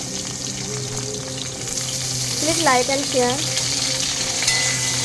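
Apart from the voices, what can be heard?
potatoes frying in hot oil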